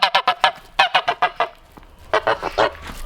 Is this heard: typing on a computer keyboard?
no